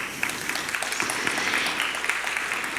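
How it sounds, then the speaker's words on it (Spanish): Audience at an international circular economy forum applauding to welcome a keynote speaker, a dense, steady wash of many hands clapping throughout, fairly loud and with no talk over it. "Lo recibimos con fuertes aplausos."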